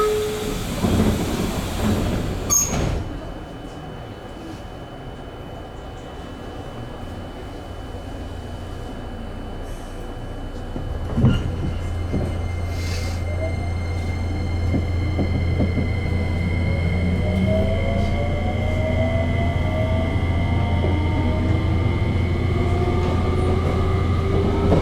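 JR Kyushu 303 series local train running from Chikuzen-Maebaru toward Meinohama, heard from inside the car with a steady low motor drone, rising and falling inverter whine as it accelerates, and a couple of sharp knocks early on.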